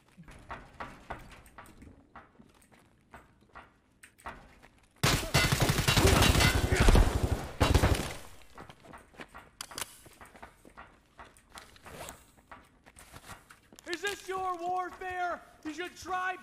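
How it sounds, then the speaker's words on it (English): Dense burst of automatic gunfire in the game Escape From Tarkov, a loud sustained volley lasting a few seconds between sparser shots and footsteps, with talk and music-like tones around it. "Bruh, I'm being fucking shot behind a wall."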